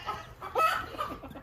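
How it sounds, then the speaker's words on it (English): Chickens cluck softly in a backyard coop during a winter blizzard in Oklahoma City, with a few short close clucks and a brief squawk in a quick burst. "There they go. Chickens."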